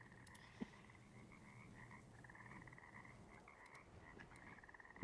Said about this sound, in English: Oh, I hear frogs.